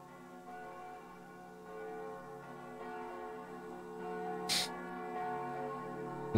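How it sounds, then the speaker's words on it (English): Soft, distant church bell tones ring and sustain in a quiet background, with a brief sharp noise burst partway through. "Why do I know those bells?"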